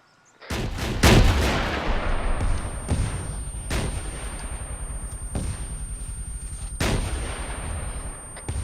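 Thermobaric rockets fired in a Russian-equipment military video game, a sequence of loud, close booming blasts, one heavy launch near the start followed by four more spaced detonations over a rumbling background.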